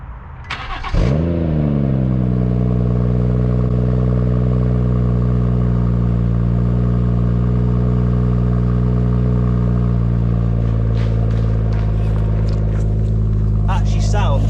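A BMW M140i with the B58 engine cold starts with a short crank and sharp flare, then settles into a loud, steady, deep high idle from the stock exhaust, heard close with no one talking.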